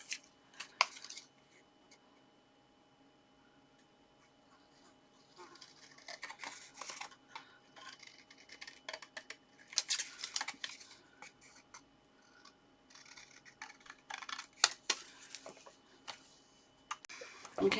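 Paper pieces for a Christmas pop-up gift box are snipped with scissors in short, intermittent bursts of crisp cutting and rustling, with quiet gaps between and faint handling noises in a calm indoor room.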